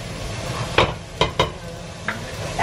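Garlic sautéing in a hot pan for a Filipino soup, a continuous sizzle broken by a few sharp metallic clanks of a utensil against the pan, close and without talk.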